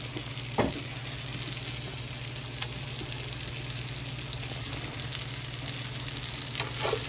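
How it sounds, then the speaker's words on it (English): Sliced onions and mushrooms sautéing in a pan over medium-high heat, a dense, steady sizzle with a couple of sharp stirring clacks, loud and close with a faint hum underneath and no speech. "basically what I'm doing is just gonna sit there and start to saute the onion mushrooms"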